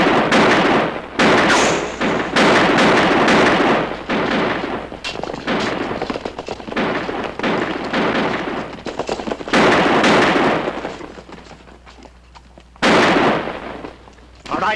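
Heavy gunfire shooting up equipment crackles in dense, loud volleys with short pauses between bursts, sharp reports layered over one another across the whole stretch.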